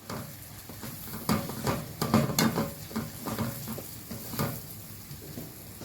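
Spice powders, chilli and coriander, stirred into chicken liver in a hot pan, giving a steady sizzle under irregular scraping stir strokes, close and moderately loud with no voices.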